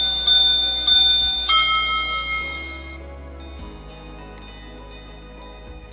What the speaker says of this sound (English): an alarm that chimes the time to the exact hour, quarter hour, and minute in high definition